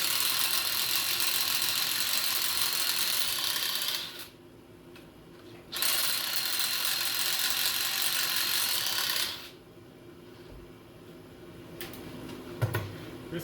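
A drill bores pocket holes into wood for a folding home office desk in two sustained whirring runs of about four seconds each, close and steady, separated by a quiet gap, with light knocks afterward.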